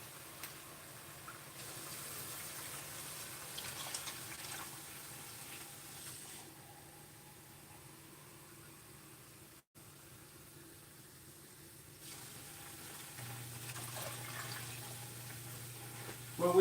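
Water poured from a container into a pot of browned bone-in chicken drumsticks for lemon pepper chicken soup, a steady, soft splash and gurgle running for most of the stretch, fairly quiet and close.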